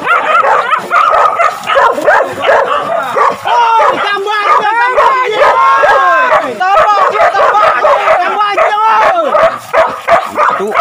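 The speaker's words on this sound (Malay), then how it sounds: "Awas anjing dah." Several hunting dogs on a wild boar hunt yip, whine and bark excitedly in rapid overlapping bursts close by, a frantic chorus that runs almost without pause.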